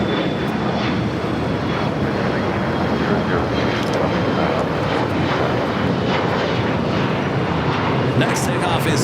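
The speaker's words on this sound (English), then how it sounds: "Next takeoff is United Airlines Flight 417 heading to Kahului, a 737 MAX 8." A United Airlines Boeing 737 MAX 8 takes off at Los Angeles International Airport. The jet engines give a loud, steady roar that fills the whole stretch and holds level without a clear rise or fade.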